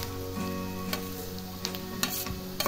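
Finely chopped eggplant frying in a pan for bharit, a soft steady sizzle over a low hum, with a few sharp spatula taps and scrapes, close by and without speech.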